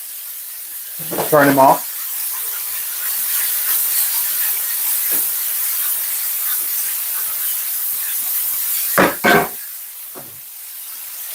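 Peppers hit a hot wok of beef and onion stir-fry, giving a steady loud hiss and sizzle throughout, with a couple of short spoken interjections and brief clatters over it.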